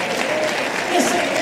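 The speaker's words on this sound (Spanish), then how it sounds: "por eso está aplaudiendo" Applause from a church congregation during a live Spanish-language sermon, a dense, steady patter of clapping heard up close, with voices mixed into it.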